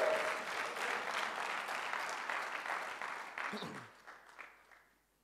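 A church congregation applauds and cheers in praise, a broad wash of clapping that holds steady, then fades away over the final seconds.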